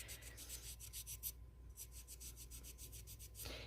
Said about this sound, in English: all I'm doing is sanding. I'm dipping the sandpaper in water.